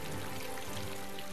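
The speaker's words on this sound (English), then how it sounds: "it swelled the atmosphere with moisture, creating torrential rainfall" Torrential rainfall: a dense, continuous hiss of heavy rain pouring down and pattering on surfaces, steady and even throughout, with no voices.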